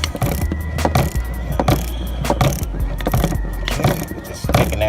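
A ratchet wrench works the last screw off the alternator of a 2007 Chrysler Aspen, with steady rapid clicking strokes in repeated bursts, close and loud over a dull mechanical background.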